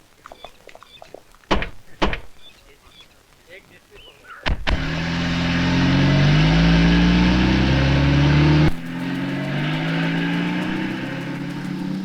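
A car pulls away after doors thunk shut, its engine rising into a loud, steady drive for several seconds before the noise drops to a lower cruising hum; no speech is heard.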